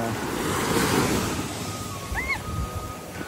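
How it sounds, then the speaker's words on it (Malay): Strong sea waves crash on the shore at Bukit Singa on Pulau Kapas in rough weather, a loud, continuous broadband roar of surf with wind buffeting the microphone throughout. "Sebab ombak kuat gila."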